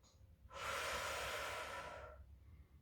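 A single long, close breath during a Pilates exercise, a steady airy rush lasting about a second and a half against a quiet room.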